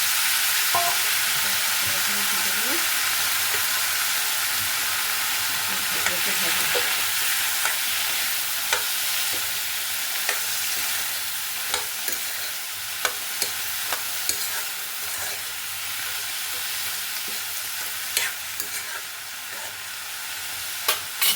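Banana stem (kol posola) fries in a pan with a steady bright sizzle throughout, punctuated by occasional spatula scrapes and taps, close and fairly loud, with no speech.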